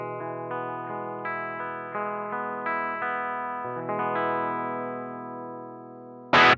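An electric guitar picked gently through a BOSS BD-2W Blues Driver overdrive pedal with the gain turned down, giving lightly crunchy, sustained chords and notes that ring into each other, ending in a brief loud burst of noise.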